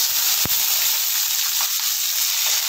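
Dried red chillies fry in hot oil for a bitter gourd dish, a close, continuous sizzle and hiss with a brief sharp tap of a utensil near the start.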